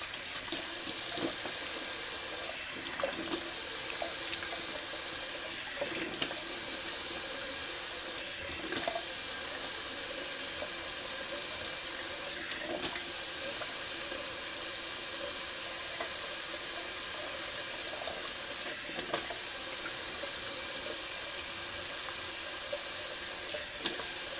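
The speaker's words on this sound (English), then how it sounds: "gonna do a little cold water rinse" A kitchen or bathroom tap runs cold water steadily into a sink for a rinse, a continuous close hiss and splash with a few brief interruptions where the flow is disturbed.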